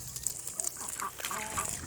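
Ducks, mostly females, in a farmyard flock raised alongside chickens, giving a few short, scattered nasal calls close by over a light outdoor background.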